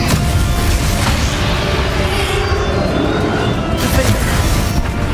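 Bombarda explosion spell cast in the Hogwarts Legacy video game, a loud sustained booming blast with deep rumbling roar and crackle, continuous and heavy throughout.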